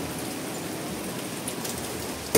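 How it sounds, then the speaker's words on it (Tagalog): Rain falling outdoors, a soft, even hiss of drops that continues for a couple of seconds and ends with a brief sharper patter. "Ah, ulan na ito."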